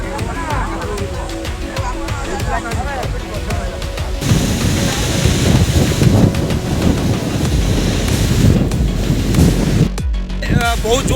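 Strong gusts from a Kalbaishakhi storm roar continuously and loudly, buffeting the microphone in a steady rushing wash that swells midway and carries through to the end.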